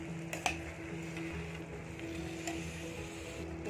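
Peas being stirred into a sizzling pav bhaji mixture in a pan, a steady frying hiss with soft scraping of the spoon and a sharp clack near the start, no talking.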